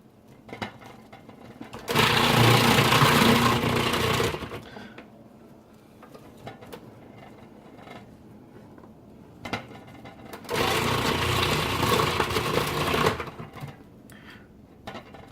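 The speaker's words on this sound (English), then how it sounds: "in the processor it goes" A food processor chops vegetables for bigos in two loud whirring bursts of a few seconds each, separated by quieter handling noise, close by and without talk.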